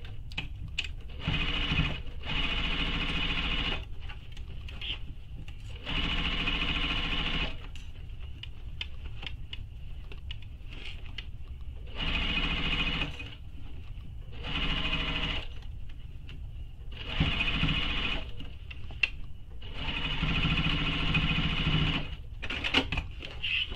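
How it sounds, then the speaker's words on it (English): A sewing machine stitches the bottom edge of a fabric shoulder bag in several loud, close bursts of rapid whirring, separated by short pauses, with no talking. "now we're going to sew that bottom edge with the seam allowance she gives in the pattern"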